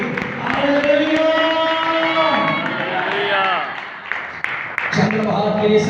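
A church congregation claps amid loud, sustained sung and shouted worship voices. The clapping is dense and close, mostly buried under the singing, with a few sharper claps standing out toward the end.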